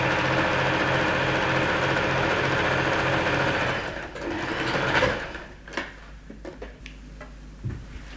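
A sewing machine stitches a seam on shirt fabric, running with a steady fast whirring hum for about four seconds, then stopping, followed by faint handling clicks and rustles.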